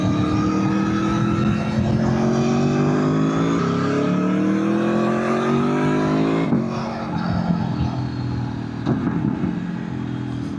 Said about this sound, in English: You downshift, it just cracks and pops. Little burbles, it's so beautiful.